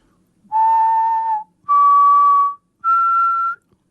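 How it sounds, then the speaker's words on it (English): Three sustained whistled notes form a simple rising major triad, each held about a second with short gaps between them, clear and close against a quiet background. "you just need to activate your microphone and you can whistle like"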